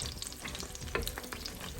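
Köfte meatballs frying in a pan, a steady dense sizzle and crackle of hot oil with scattered pops, close and continuous throughout, with no voices.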